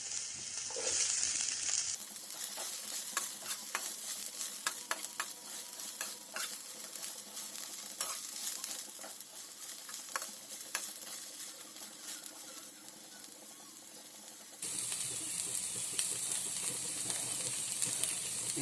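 Sliced onions frying in hot oil for macaroni masala, a steady sizzle with repeated scraping strokes of a spoon stirring the pan, close and continuous with no talk.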